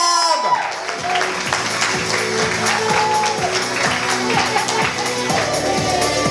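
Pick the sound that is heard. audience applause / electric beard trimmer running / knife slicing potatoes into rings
audience applause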